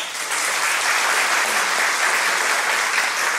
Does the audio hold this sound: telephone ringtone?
no